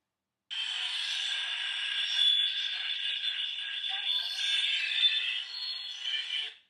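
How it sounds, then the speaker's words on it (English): Simulated cochlear implant hearing gives a steady, hissy electronic buzz like a radio being tuned between stations, wavering and crackling for about six seconds at moderate level. "Sounds like a radio being tuned. It sounds to me like electricity."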